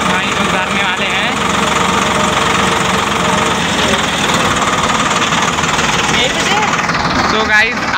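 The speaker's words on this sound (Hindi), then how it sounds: "आप देख सकते हैं ये हमारे भैया ट्रैक्टर ले जा रहे हैं" A tractor engine runs steadily and loudly in a farm field while organic manure is being spread, with a constant droning rumble throughout and no pause.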